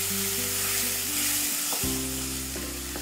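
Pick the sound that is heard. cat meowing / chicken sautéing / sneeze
chicken sautéing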